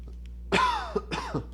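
A single harsh cough from someone with a cold, followed by a shorter second cough, close and clear over a quiet background.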